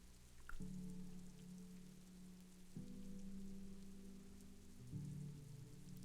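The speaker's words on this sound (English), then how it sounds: "At least the sound of the rain has loaded in." Rain in the video game Disco Elysium: The Final Cut falls as a soft, steady patter, quiet and continuous, laid over a low sustained musical drone that shifts chords a few times.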